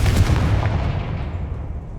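Confringo fire spell blast in the video game Hogwarts Legacy, a loud booming burst that rumbles and fades away over about two seconds.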